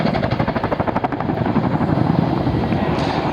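A Boeing CH-47 Chinook tandem-rotor helicopter passes nearby, its rotors beating out a heavy, rapid chop over a steady engine roar that stays loud throughout.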